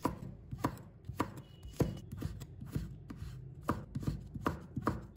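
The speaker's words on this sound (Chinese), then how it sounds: "再改刀将它切成细丝" A knife slices chili pepper into thin strips on a cutting board, giving a quick run of crisp, evenly spaced chopping taps, close and fairly quiet, with no talking.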